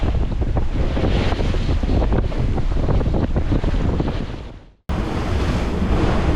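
Loud, rough Atlantic waves slam against a sailboat amid gusting 21 to 25 knot wind noise, with a brief dropout before the crashing resumes.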